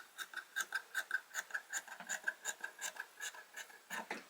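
Scissors snip through knit fabric in a steady, quick rhythm, roughly twenty soft, close cuts in a row, quiet and unaccompanied by any voice.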